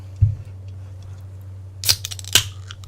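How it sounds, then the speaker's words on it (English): A can of orange vanilla Coke Zero cracks open: a small click, then two sharp, close pops with a brief fizzy hiss, over a steady low background hum. "That was the sound of the orange vanilla Coke Zero getting opened."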